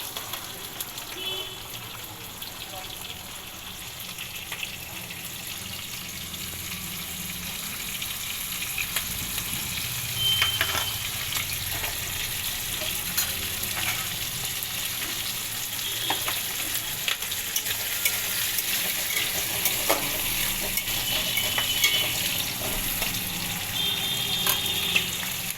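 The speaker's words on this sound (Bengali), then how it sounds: "সব কটা পেঁয়াজের পাপড়ি আমি এর মধ্যে দিয়ে দিলাম। দিয়ে এবার গ্যাসের ফ্লেমটাকে হাই করেই আমি কিন্তু ভাজবো।" Onion petals fry in oil over a high gas flame, a continuous crackling sizzle that grows slightly louder toward the end, with occasional clinks of stirring and no speech.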